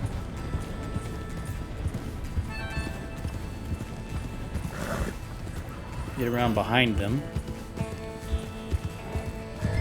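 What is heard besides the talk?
horses running and neighing, video game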